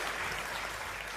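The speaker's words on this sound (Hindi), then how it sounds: "तालियां जोरदार वाली बजाओ एक बार जरा।" An audience at a Hindi kavi sammelan poetry gathering applauds, a faint, even wash of clapping that holds steady throughout without any voice.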